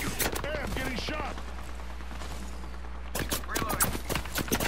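Bursts of video game gunfire crackle in two clusters, opening and closing the stretch, with a quieter gap between them while people talk throughout.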